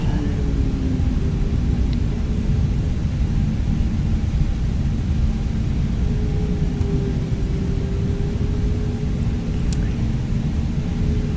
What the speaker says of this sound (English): I'm just gonna pull out on the runway here and get set for takeoff